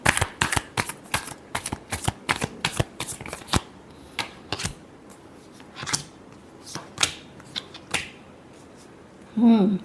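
Tarot cards being shuffled in a love-reading session, a rapid run of crisp riffling clicks followed by slower scattered card slaps, close and clear, with a brief voice at the very end.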